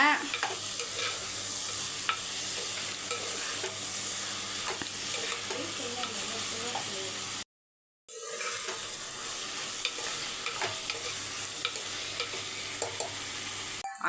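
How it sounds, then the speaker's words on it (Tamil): Chopped kohlrabi stirred in a pan and left to simmer, a steady close sizzle with scraping spoon strokes against the pan, briefly cut to silence midway before resuming. "இப்போ நூக்கலை போட்டு நல்லா ஒரு பத்து நிமிஷத்துக்கு சிம்மில் வச்சு மிக்ஸ் பண்ணிக்கோங்க"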